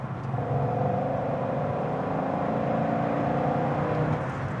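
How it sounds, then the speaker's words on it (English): A Corvette C6 Z06 pulls hard in fourth gear with a steady, sustained engine drone and road rumble from inside the car, moderately loud and without talk. "that was just the fourth gear pull, no problem at all"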